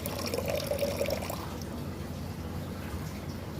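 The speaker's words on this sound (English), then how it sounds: "I'll just literally just pour the water out, I will." Water poured out of an axolotl tank, a steady trickling and splashing stream that is loudest for the first second and a half and then thins into a softer, continuous wash.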